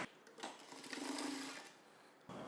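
A sewing machine running a stitch along a blouse side seam, one continuous whirring burst of about two seconds at close range with no voices.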